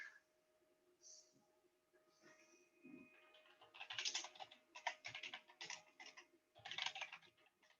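Close, quiet bursts of computer keyboard typing as a search keyword is entered, irregular clusters of rapid key clicks with brief pauses between words.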